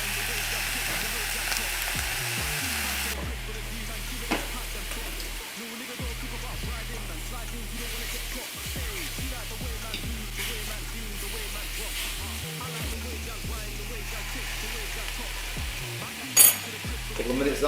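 Food steams and fries in a hot pan on high heat, giving a steady close sizzle with scattered crackles and the occasional knock of a utensil, running continuously.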